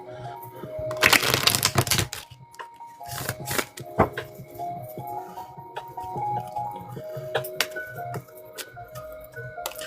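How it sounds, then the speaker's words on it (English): A deck of tarot cards is shuffled by hand, with a dense burst of riffling followed by scattered crisp snaps and ticks of cards being cut and tapped, close and fairly quiet. "I'm gonna do one more shuffle for Gemini."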